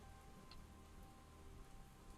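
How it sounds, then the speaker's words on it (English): Rain falls steadily in a soft, even patter for about two seconds, with no voices. "I'm actually kind of surprised it's raining here."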